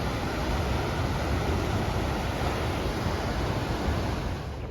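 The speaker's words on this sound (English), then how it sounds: "The angry sea." Rough sea waves crash below the Hermanus cliff path, a steady broadband roar of surf mixed with wind buffeting the microphone, loud and continuous with no talking.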